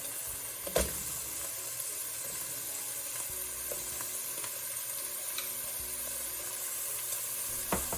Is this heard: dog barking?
no